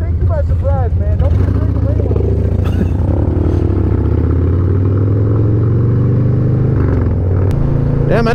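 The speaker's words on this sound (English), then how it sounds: "Damn, I didn't know Two Brothers exhaust sounded this mean on a Harley." A Harley-Davidson motorcycle fitted with a Two Brothers exhaust rumbles loud and close with a deep, steady throb, while voices talk over it.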